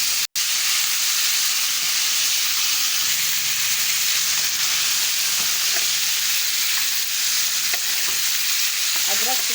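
Garlic and tomatoes fry in a karahi with a dense, steady sizzle, close and loud throughout, with occasional stirring scrapes and a sharp clink near the start; no talk.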